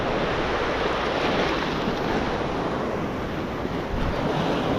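Ocean surf washes onto a shelling beach, a continuous loud wash of breaking waves mixed with gusting wind buffeting the microphone, with no voices.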